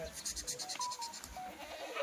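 Several Kathiawadi sheep bleat repeatedly nearby, overlapping calls in a busy flock, fairly loud with no talking.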